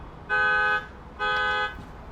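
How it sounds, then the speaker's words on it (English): A car alarm sounds two sustained electronic blasts at a Supercharger station, each about half a second long with a short gap between, loud against faint background noise. "Looks like we got a buddy with the alarm going off."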